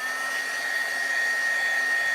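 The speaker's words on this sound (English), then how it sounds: "the embossing gun is cold, so I need to let it heat up a second. So we're gonna let it go." A craft embossing heat gun runs continuously while warming up, giving a steady close blowing whir with a high tonal whine and no variation or speech over it.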